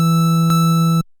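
Two sine wave oscillators fed together through tube distortion, giving a steady, loud buzzing tone with rich harmonics that holds for about a second, then cuts off abruptly.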